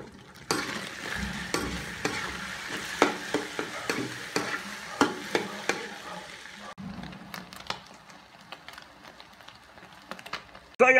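A hotdog omelette with calamansi sizzles in a pan while a utensil stirs it, giving a steady sequence of scraping taps over continuous frying hiss, close and moderately loud.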